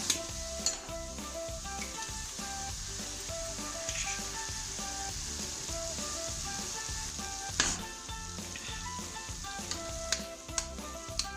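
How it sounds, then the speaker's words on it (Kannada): Eggs sizzle steadily in a hot pan with fried vegetables, fenugreek and dill leaves, for egg bhurji, with occasional stirring scrapes and a few sharp metal clinks close by. "ಗ್ಯಾಸ್ ಆನ್ ಮಾಡಿ ತತ್ತಿ ಹೊಡೆದು ಹಾಕ್ಕೊಳ್ಳೋದು."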